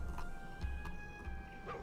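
Dog barking in World of Warcraft as a character runs past, a few short yips and woofs set against steady game ambience and music tones.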